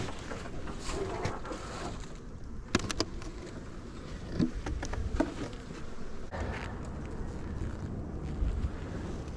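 A smoked-down honeybee colony buzzes in a low steady drone near the open hive, with wind rumble and a few sharp clicks and knocks of frames being handled.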